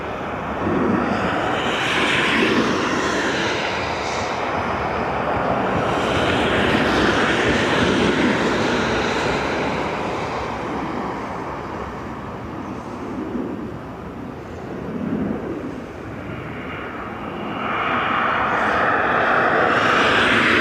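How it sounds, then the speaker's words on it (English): Steady roar of Ryanair Boeing 737 MAX jet engines at Dublin Airport, a broad sustained rumble that holds loud for about twenty seconds, eases slightly midway, then swells again as the aircraft moves. "Ryanair from Rhodes, 737 MAX 8-8 or MAX 8-200."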